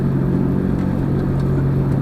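Car whose exhaust has been welded up and pushed high, vibrating against the chassis while driving; a continuous low droning rumble with a steady buzzing hum, loud and close, with no talk.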